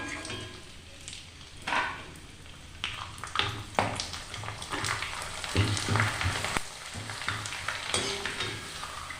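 Tomato papad frying in hot oil, a steady busy sizzle with bursts of crackle and a few louder clatters, close and fairly loud throughout, no talk.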